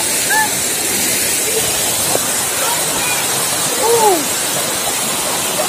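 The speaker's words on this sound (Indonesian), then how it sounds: "Kita mendekat dulu ke air terjunnya" Steady broadband roar of Saliu waterfall in Bontomanurung, Maros, fills the clip, with a few brief bird-like chirps and voices faintly over the constant rushing water.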